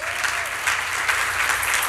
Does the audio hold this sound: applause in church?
yes